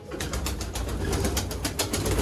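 Sialkoti pigeons coo in soft, repeated pulses over a steady low murmur, with several birds calling close by and no voices.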